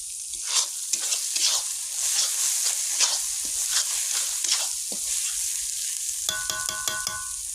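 Home-pounded dried red chilli and spices fry in a pan with a steady close sizzle, broken by repeated spoon scrapes and stirring strokes, ending in a few clinks against the pan; no voices.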